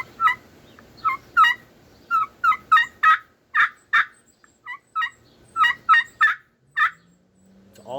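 Friction turkey call worked with a striker gives a run of about a dozen raspy yelps in rhythmic bursts with short pauses, close and clear, no talking.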